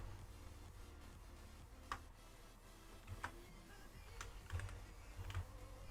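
Someone types on a computer keyboard. Soft, irregular key clicks come in small bursts, fairly close and quiet, over a faint low hum, with no talking.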